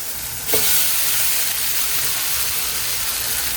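Strawberry pancake batter sizzles in an electric pan with a steady, close frying hiss that swells slightly as the batter goes in.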